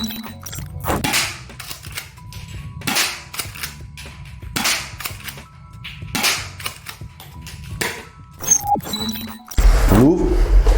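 An AGM Mastech toy pump-action blaster fires and ejects fake shells in a series of sharp, loud snapping cracks, each followed by plastic clacks of the pump, spaced irregularly with a closer rattle at the end.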